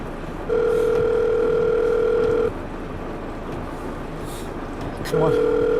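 A telephone ringback tone rings out unanswered, two long steady electronic rings about three seconds apart over a low background rumble, with a voice briefly audible.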